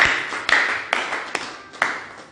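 A church congregation claps for Jesus in a steady rhythm, about six crisp, evenly spaced claps ringing in a reverberant hall.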